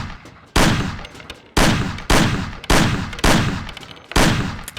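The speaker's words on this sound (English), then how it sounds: "Shoot the cans off of the table." Gunshots ring out in the Mafia video game as cans are shot off a table: six loud, separate single shots spaced roughly half a second to a second apart, each with a short decaying tail.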